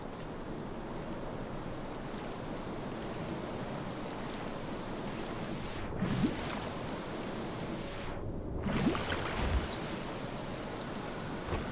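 Wading through water in Dishonored's Brigmore Witches mission makes a constant surf-like wash of lapping water, with a couple of heavier swishing splashes as the character moves through it, with no talking.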